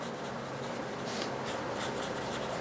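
A watercolor brush colors on paper with a soft, continuous close-up rubbing and scratching texture at low volume.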